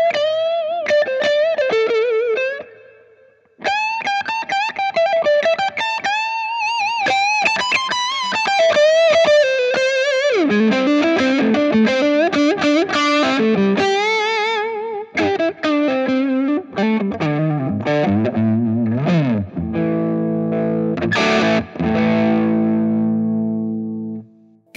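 Electric guitar through a 1975 amp, played as a long solo jam with distortion and effects: fast melodic runs, bends and sustained notes, loud and continuous, ending on chords, with no talking.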